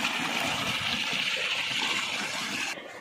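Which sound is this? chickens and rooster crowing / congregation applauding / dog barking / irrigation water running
irrigation water running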